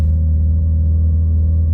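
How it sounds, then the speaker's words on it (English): A Mitsubishi Evo engine drones loud and steady in first gear, a deep rumble topped by a thin, constant gear whine, heard from inside the car. "oh, that first gear whine, I freaking just love it, guys. Like, listen to it."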